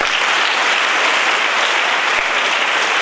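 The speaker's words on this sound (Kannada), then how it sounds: "ಇನ್ನೂ ಒಂದು ಚಪ್ಪಾಳೆ ತಟ್ಟಬೇಕು" Dense, steady applause from an audience at a gathering of the Odiyuru Sri Gurudeva Vidyapeetha school, many hands clapping continuously and fairly loudly for three seconds with no gaps.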